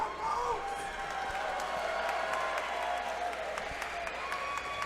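A crowd at a Cage Titans MMA fight applauds and cheers steadily, with scattered whoops over dense, loud clapping that fills the whole stretch without a break.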